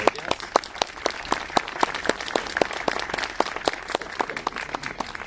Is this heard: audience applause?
yes